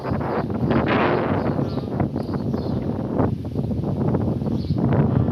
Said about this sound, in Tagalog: Ito ang lakas ng hangin.